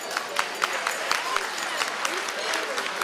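A gala dinner audience claps steadily, a dense patter of hands filling the room as a voice speaks over it.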